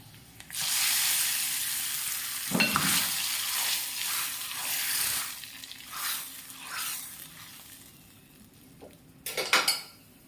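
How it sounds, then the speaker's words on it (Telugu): Hot oil crackles and hisses in bursts as tempering spices fry, with clattering of a utensil against a metal pan and sharp clinks near the end. "ఇక పప్పుకైతే పోపు వేస్తానండి"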